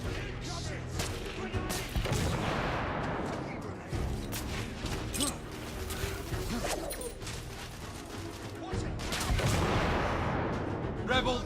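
A frag grenade explodes amid a firefight in The Order: 1886. Heavy bursts and crashes mix with steady gunfire across the scene, and voices are heard in the background.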